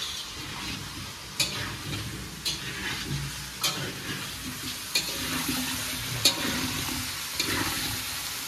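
A spice masala with ginger is stir-fried in oil in a home kitchen, giving a steady low sizzle with soft periodic scraping and stirring strokes every second or so, without any talking.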